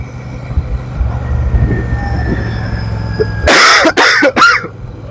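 A few sharp, loud coughs up close from a sick person near the end, following a stretch of rumbling train noise with wheels on rails.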